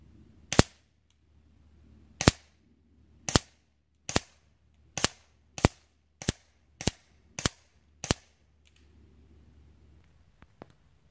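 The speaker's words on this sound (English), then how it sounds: "That was shooting as fast as I could." Hatsan Galatian Tactical semi-automatic air rifle fired rapidly at a 50-yard target, eleven sharp loud cracks in quick succession, the spacing tightening as the shots go on, each ending abruptly, with no talking.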